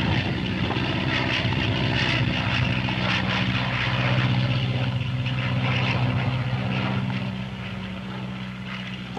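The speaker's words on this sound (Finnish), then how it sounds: "kaasu hitaasti auki ja suora kiito kohti taivaan rantaa" A 1957 Finnish Air Force propeller training aircraft at Kauhava throttles up for its takeoff run, a loud, steady droning engine roar sustained throughout, easing slightly toward the end.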